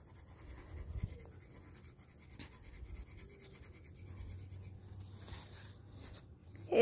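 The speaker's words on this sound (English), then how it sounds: "I'm gonna color it with the black pencil, the black colored pencil, slowly" A black colored pencil scratches softly across paper in slow, steady strokes while shading a shark drawing, close and quiet with no talking.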